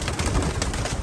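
Racing pigeons at a 40-mile toss release, a dense flock cooing and fluttering together at close range, a steady busy murmur with no speech.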